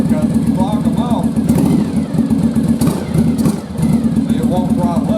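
A Yamaha Virago motorcycle engine idles steadily with a low throbbing rumble, rising briefly as the throttle is opened and settling back, with someone talking over it throughout.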